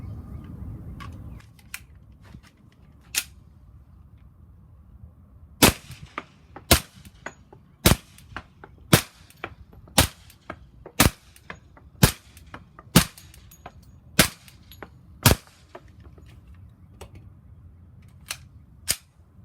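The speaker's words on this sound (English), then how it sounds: "we had an opportunity to fire a few different kinds of ammunition" An HK45 pistol fires Federal Syntech .45 ammunition in a steady string of about fourteen sharp, loud shots spaced roughly a second apart, each cracking out clearly above quiet background noise.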